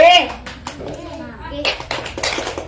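A voice speaks, then a burst of group clapping follows in quick, uneven claps near the end, as children do a rhythmic clapping cheer.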